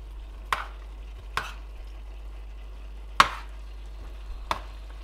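Onions stirred in a frying pan for a chilli dish, a few separate scrapes and clicks of the utensil spaced about a second apart over a faint steady background, with no talking.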